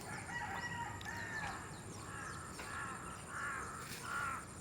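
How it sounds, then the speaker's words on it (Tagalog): Several harsh crow caws repeat at an uneven pace over a steady, faint background hiss, moderately distant, with no talking. "Tunog-tunog ng uwak hapon ay. Uwak."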